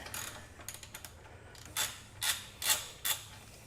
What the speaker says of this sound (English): remove the main swing arm pivot bolt nut. That is going to be a 19mm socket.